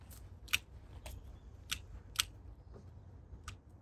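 Sharp snips of scissors cutting back long shoots on a bonsai tree, about six crisp close clicks spaced irregularly over a quiet background.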